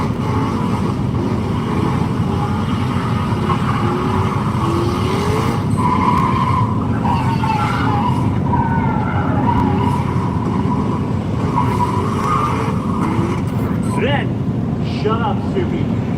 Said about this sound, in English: That's where you enter the burnouts.